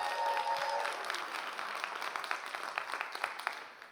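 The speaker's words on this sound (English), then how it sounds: "let's give, again, a round of applause for them" An audience claps for young contestants at a live event, the applause loud and dense at first, then thinning into scattered distinct claps as it fades.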